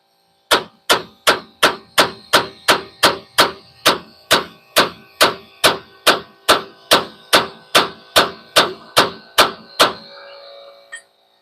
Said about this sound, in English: Maybe the thread of an air hammer will make it pop.